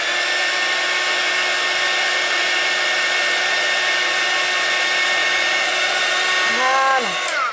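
A hair dryer blows steadily and loudly, close by, drying watercolour paint on a card being prepared for heat embossing; it runs unbroken throughout and its pitch drops briefly near the end.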